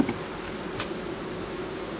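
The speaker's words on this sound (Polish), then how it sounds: "w ogóle jest mnóstwo pszczół." Honeybees buzz in a busy apiary in July, a dense, steady hum from many insects that holds evenly throughout with no talking.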